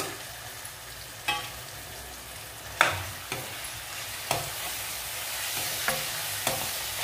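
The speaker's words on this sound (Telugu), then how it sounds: "ఇప్పుడు ఇవి కూడా వేసేసి మనం ఒకసారి ఇందులోనే వేగించేసుకుందాము" Coconut, sesame seeds and cashews fry with onions in a pan under a steady sizzle. A utensil scrapes the pan sharply and repeatedly at irregular intervals while stirring.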